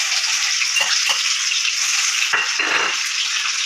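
Onion and tomato dropped into hot oil with mustard greens, giving a loud, continuous sizzle with stirring scrapes and bursts of spattering, no voices.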